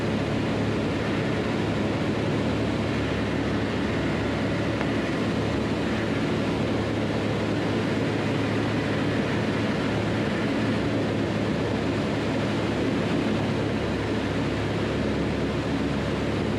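Steady, droning cabin noise of a light airplane descending with some flaps extended, an unbroken low engine hum with no talking.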